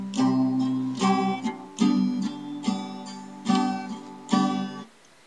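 Acoustic guitar strummed through the verse chords of a song, six rhythmic chord strums with ringing harmonics, steady and close, each strum decaying before the next, no talking.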